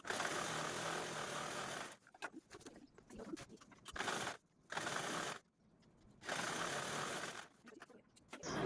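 A sewing machine stitches a fabric strip onto a large travel bag in bursts of steady whirring, stopping several times with quiet handling sounds between runs.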